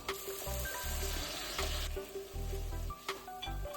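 Spam slices fry in a dry pan with no oil, giving an intermittent crackling sizzle broken by brief bursts of clatter and handling noise.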